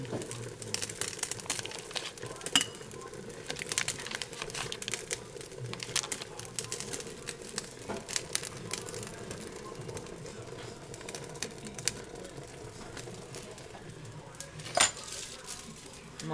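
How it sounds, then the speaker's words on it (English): Butter being chopped into small pieces a little at a time for a grain-free chocolate cake, giving soft, scattered knife taps and clicks against a dish at a steady low level, with faint crinkling in the background. "I'm going to chop my butter in a little bit at a time."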